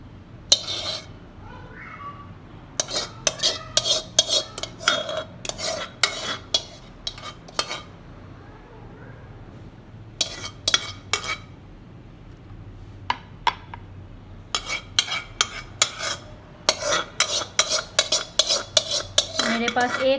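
A spoon scraping and clinking against a baking dish while cheese sauce is spread over a chicken lasagna, with repeated short metallic clicks and taps in uneven bursts.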